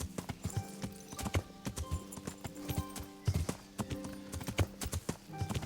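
Horse hooves clip-clop in a steady, uneven gait in the medieval role-playing game Kingdom Come Deliverance, close and fairly loud, with harness jingles and faint game ambience around the plodding steps.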